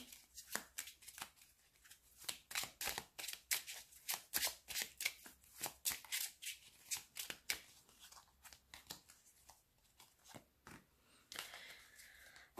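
Tarot cards are shuffled repeatedly, a run of crisp riffling bursts and soft slaps in quick irregular rhythm, with no one speaking.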